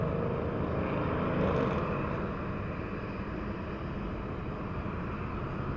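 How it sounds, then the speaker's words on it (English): A United Boeing 737-800 airliner bound for Houston passes near San Diego, its engines giving a loud, steady broadband roar that swells slightly early on and then holds evenly throughout, with no voices. "United 2243, a Boeing 738, heading to Houston Bush Airport."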